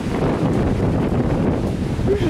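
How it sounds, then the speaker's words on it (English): Strong gusts buffet the microphone on a hike up Mt. Holyoke, a constant loud low rumbling roar lasting a couple of seconds, with voices faintly mixed in. "Usually don't get big wind on our hikes, do we?"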